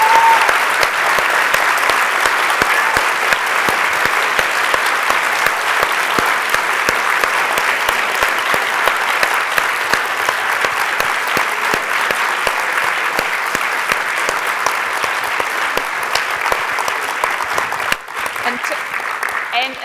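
Sustained applause from a symposium audience thanking filmmaker Jane Campion, steady dense clapping throughout with crowd noise, tapering slightly near the end.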